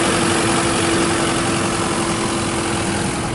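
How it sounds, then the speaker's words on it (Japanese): A car engine idles with a steady, even hum and a low rumble up close, running alone without any speech. "エンジンかかってるから"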